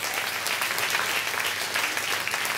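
Audience applause at a live concert by a Corsican group, greeting a lyricist; an even wash of clapping, moderately soft and continuous throughout.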